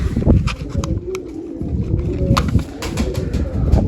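Large domestic pigeons, dosed with deworming tablets, coo repeatedly nearby in low throaty bursts over a busy, rustling background.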